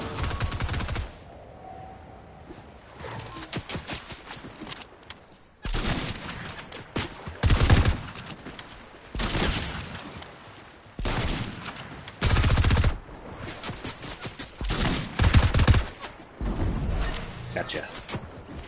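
Fortnite gunfire in repeated loud volleys and rapid bursts, alternating with quieter gaps, with speech from a player in the game.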